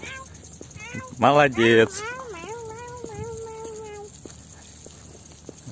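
A young child in a Krabi harbour setting voices a short imitation of a cat's meow, two quick loud bursts, followed by an adult speaking nearby over faint outdoor background noise.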